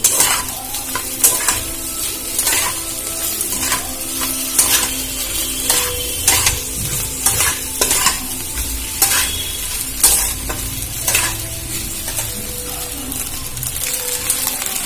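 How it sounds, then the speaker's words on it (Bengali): Boiled, drained pasta tossed and stirred in a sizzling frying pan with an egg and vegetable sauce, spatula scrapes and clanks repeating steadily over a continuous close fry with no talking. "আমি যে পাস্তাগুলো সেদ্ধ করে জলটা ঝরিয়ে রেখেছিলাম এবারে সেগুলো এর মধ্যে দিয়ে দেব দিয়ে ভালো করে নাড়াচাড়া করে নেব"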